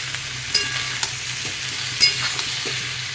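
Cauliflower and potato pieces fry with turmeric and salt in a pan, a loud continuous close sizzle broken by a few spatula knocks and stirring scrapes, with no voices.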